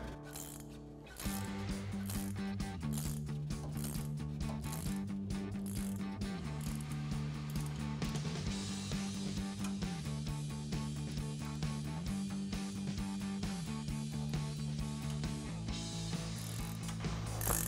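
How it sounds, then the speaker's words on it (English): A hand ratchet loosening a nut on a Toyota Tundra's suspension during a lift kit install, clicking steadily and continuously for the whole stretch, close and even in level, alone without talk. "Now we can just keep loosening this until our nut is off."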